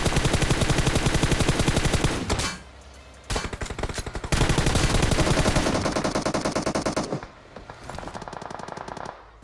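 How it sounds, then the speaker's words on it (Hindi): Gunfire in the battle-royale game PUBG Mobile, coming from a hill: loud, sustained automatic bursts with short pauses between volleys, dense and close throughout. "पीछे से फायरिंग की साउंड आ रही थी मेरे को पहाड़ी पे से"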